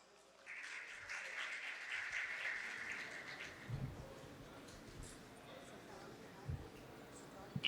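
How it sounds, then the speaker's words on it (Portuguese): An audience applauds at the Integra 2023 event, a dense, steady clatter of clapping that rises quickly and holds for several seconds, with a brief tonal sound near its start. "Uma salva de palmas."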